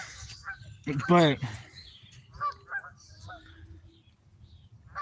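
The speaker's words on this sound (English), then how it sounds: "I think that's a chirp or whatever those geese make" Geese give a loud harmonic honking call near the start, then shorter, fainter calls follow over outdoor background noise, with a brief spoken word.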